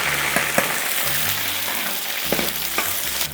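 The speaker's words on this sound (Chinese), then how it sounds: "我们再把前面切好的小葱段倒下去，给它来个葱油。" Chopped green onion pieces tipped into a wok of hot oil, giving a steady, close, loud sizzle with a few sharper crackles and pops, no talking.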